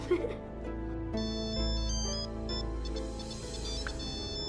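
A telephone ringtone sounds at an office secretary's desk, a tonal melodic chime pattern shifting through several notes, fairly close and clear over a faint background.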